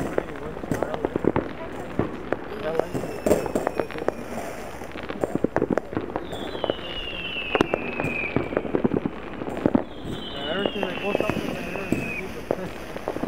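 July 4th fireworks in Lompoc, California pop and crackle in irregular bursts, with a couple of rising whistles, while people chat nearby throughout.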